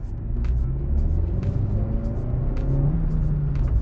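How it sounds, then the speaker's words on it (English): A 2022 Suzuki Swift Sport hot hatch is floored in second gear after a speed hump. Heard from inside the cabin, a loud, continuous engine drone and road rumble holds strong for the whole stretch. "So I'm just gonna chuck it in second gear after the speed hump, try and floor it."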